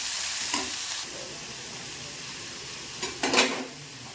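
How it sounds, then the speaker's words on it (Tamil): Broad beans with onions being stirred in a frying pan, a faint low sizzle broken by two short bursts of scraping and clinking from the spoon against the pan. "அவரைக்காய் போட்டு இப்படி எடுத்து கிளறி விடணும்"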